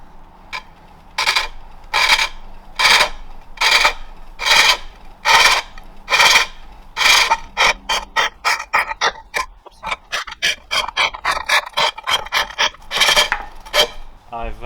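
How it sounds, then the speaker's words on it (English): A wooden bowl is hollowed out on a foot-powered pole lathe, the cutting tool scraping in regular rhythmic bursts about every second as the pole springs back, close and loud, later quickening into shorter, choppier cuts. "I've started hollowing out the bowl"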